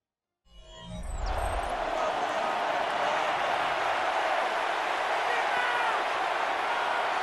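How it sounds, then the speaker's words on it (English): Stadium crowd noise in a Madden NFL video game between the Chargers and Colts: a dense, steady roar of cheering that swells in after a brief silence and holds loud and continuous. "The crowd making their presence felt."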